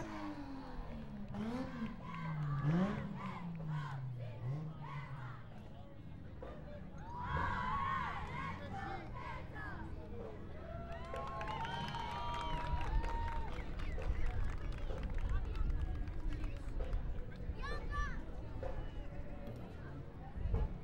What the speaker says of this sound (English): we hear on a quick cheer from the Palm Springs Middle School